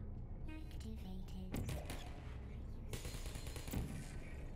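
Rapid bursts of game gunfire crackle through a multiplayer shooter match, dense and continuous with sharp clustered shots over a busy background.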